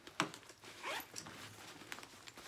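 A zipper pocket on a Coach Poppy Chelsea purse is worked: a faint, brief zip rasp near the start and a second short pull, quiet and close with little else around.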